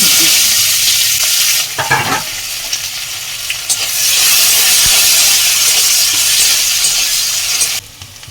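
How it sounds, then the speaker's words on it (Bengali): Onions frying in hot oil in a pan, heard as a loud, close, continuous sizzle and hiss that dips briefly, with stirring scrapes partway through. "পেঁয়াজটা লালচে করে ভাজা হয়ে গেছে"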